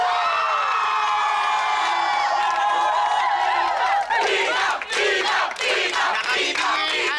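A university crowd at UP Baguio shouts and cheers loudly for a contestant at a live competition, a sustained roar of many voices that swells into bursts of whoops and yells.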